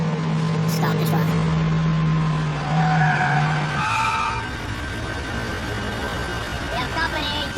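A truck braking to a halt, loud tyres skidding and squealing on the road as the engine tone drops away, followed by a lower idle rumble, with people talking over it.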